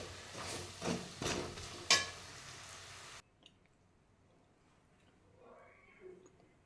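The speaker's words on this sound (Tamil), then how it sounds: "இப்போ இந்த பொடி போட்டு நல்லா இப்போ கிளறி விட்டுக்கலாம்" Chicken pickle being stirred with ground spice powder in a pan, heard as about four close scraping, sizzling strokes that stop abruptly, leaving near silence with a faint murmur.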